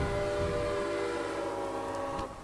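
A train in the Railway Empire game rumbles steadily with a layered mechanical hum and harmonic drone throughout, holding loud and close before easing off at the very end, with no talk.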